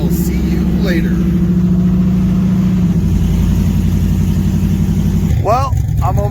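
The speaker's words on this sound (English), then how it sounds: "that's what you're hearing in the background is his car right there" A tuned car's engine runs steadily at idle before a dyno session, a low, throbbing drone close by, with someone talking over it near the end.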